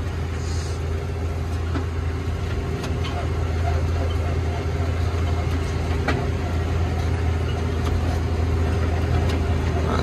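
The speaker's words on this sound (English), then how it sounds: "Put her down, PTO on, and get the revs up," A New Holland T7040 tractor with the PTO engaged runs at high revs while pulling an Amazone One Pass drill across a field sowing spring barley, giving a steady, loud low-pitched engine drone throughout with no talk.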